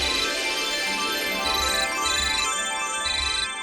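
A phone ringtone plays steadily, a repeating electronic melody with bright tonal notes, loud and close, with no talking over it.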